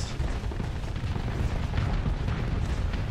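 Missile salvos launch from a ship in Starsector, a continuous dense roar of rumbling blasts and pops that stays loud and steady throughout.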